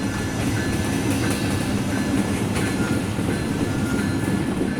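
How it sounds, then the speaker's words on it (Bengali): The Kapotaksha Express rolls into a station at speed, a loud continuous rumble of wheels on rails with rhythmic clatter and faint metallic squeal, heard close and alone. "আমাদের ট্রেনটি দুরন্ত গতি নিয়ে স্টেশনে প্রবেশ করলো"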